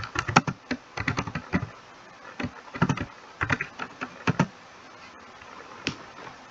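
Rapid bursts of typing on a computer keyboard while writing an article in WordPress, with close, crisp clicks grouped in quick clusters separated by short pauses.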